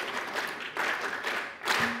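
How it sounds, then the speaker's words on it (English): Brief, moderate clapping from an audience at a university gathering, coming in a few uneven surges over roughly two seconds. "Hapigia Makofi, give clap for them."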